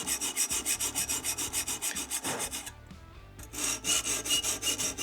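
Knife blade being sharpened on a TSPROF K03 fixed-angle sharpening system, a rhythmic back-and-forth rasping of stone on steel, about two strokes per second, close and loud, pausing briefly midway before resuming.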